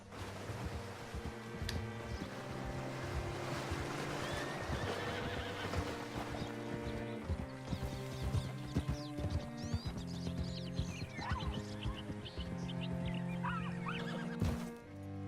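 In the Red Dead Redemption 2 video game, a horse whinnies and neighs repeatedly while hooves clip-clop on the ground, all close and clear with no speech.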